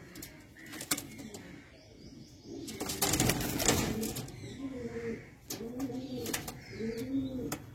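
Pigeons coo in soft, repeated low phrases near the end, mixed with bursts of wing flapping and rustling in a small loft or market setting.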